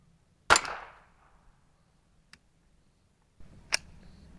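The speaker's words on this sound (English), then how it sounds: "We're shooting 3-inch steel at 20 yards." PMC Target .22LR rounds fired from a TX22 pistol at 3-inch steel targets 20 yards away: one sharp crack with a short decay, a faint distant tick, then another crisp shot later amid quiet handling noise.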